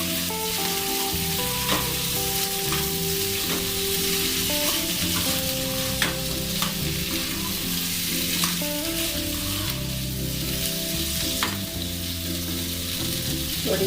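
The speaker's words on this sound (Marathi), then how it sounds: "बटाटा घालून छान हलवून घ्यायचं. त्यावर आता चवीपुरते मीठ घालूया. छान हलवून घेऊया" Potatoes fry in a pan with salt for a fasting-day potato dish, giving a steady sizzle with intermittent stirring scrapes. Soft background music runs underneath, and no one speaks.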